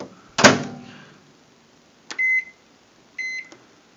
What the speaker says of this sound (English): We're going to pop it in the microwave for 30 seconds and see what happens.